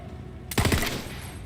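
Gunfire in Borderlands 3: a quick burst of about three or four close, loud shots in rapid succession over ambient game noise.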